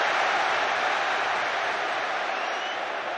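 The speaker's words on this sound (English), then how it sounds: "the crowd are loving it" Roaring crowd at a Premier League football match between Tottenham and Manchester City cheering for Spurs, a loud, steady wall of applause and shouting that fills the stadium throughout without letting up.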